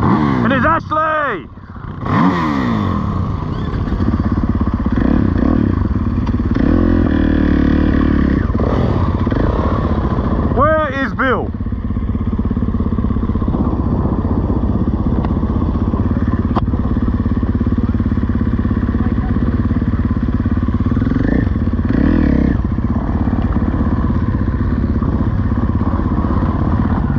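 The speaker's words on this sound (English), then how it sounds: "Old man moto. Sand track, couple of laps." A motorcycle rides laps on a sand track, its engine revving and droning with rising and falling pitch through gear changes, loud and close, with talk heard over it.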